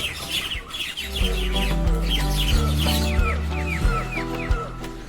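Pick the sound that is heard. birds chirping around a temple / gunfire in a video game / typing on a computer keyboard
birds chirping around a temple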